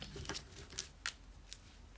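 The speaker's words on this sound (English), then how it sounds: "Shuffle again." Quick riffling card shuffles, a few crisp bursts of flicking and clattering close by, with quiet pauses between.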